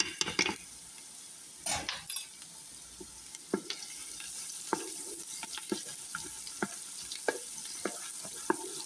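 Garlic is added to hot oil and fries with a soft, continuous sizzle, close by, with bursts of utensil scraping and clattering against the pan.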